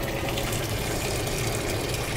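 Water gushes steadily into a cup inside a truck, a close, continuous pouring hiss with no breaks.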